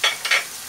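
Mustard paste frying and being stirred in a pan, two short scraping strokes with a soft sizzle, brief and close with no voices.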